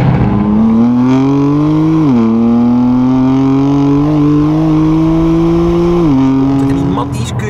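A BMW M3 Competition engine revs loudly and close up, holding a strong throaty drone that dips and rises twice before a short rasp at the end, across roughly seven seconds.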